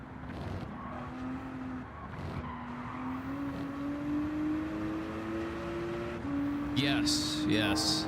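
A DuPont Ford GT race car in Gran Turismo 7 holds a steady, rising engine drone through upshifts, with tire squeal and skidding near the end and faint voices underneath.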